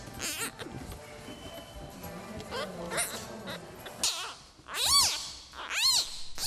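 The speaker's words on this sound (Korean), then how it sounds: "새끼 울음소리를 들은 어미" Newborn giant panda cub crying in a nursery, a series of high, piercing squeals rising and falling like a kitten's meow or infant wail, loudest in the final seconds with short gaps between calls.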